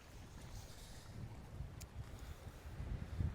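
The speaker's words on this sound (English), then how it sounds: "a bit cloudy now, a bit windy as well" Wind gusts in Sardinia buffet the microphone with low, uneven rumbling, fairly quiet and swelling toward the end, with no voices.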